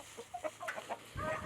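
Chickens clucking on a farm, several short close clucks in an irregular patter followed by a denser burst of louder clucking and flock noise.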